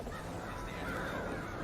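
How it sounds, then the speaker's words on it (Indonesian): A crow caws outdoors, the call heard through steady broadband background noise across a short stretch, moderately faint and alone without talk. "Ada suara burung gagak loh."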